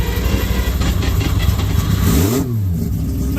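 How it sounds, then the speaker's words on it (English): A three-rotor drift car's rotary engine is hot-started, a loud close running roar with a sharp rev that rises and falls at the end before settling back to a steady idle. "All right, so rotary hot start"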